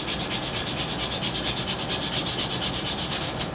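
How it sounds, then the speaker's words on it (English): Sandpaper rubs rust off the magneto magnet of a Yard Machines riding mower in fast, even back-and-forth strokes. The rasping is close, continuous and rhythmic, with no talking. "But if you sand the rust off"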